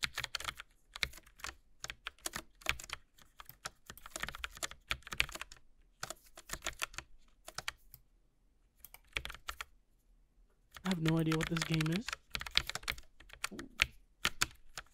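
Rapid clicky keystrokes from a Logitech mechanical mini keyboard fill the stretch in irregular bursts with short pauses, close and crisp, while a video game runs and a brief spoken line is heard.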